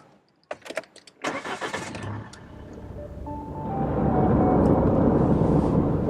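A Mahindra Pik-Up 2.2 CRDe double cab 4x4 gives a few clunks and a short burst of engine noise, then pulls away onto the road as engine and road roar swell and hold steady.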